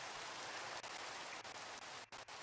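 Rain falls in the Minecraft video game as a dense, steady hiss of soft patter, even and continuous, with a couple of brief dips.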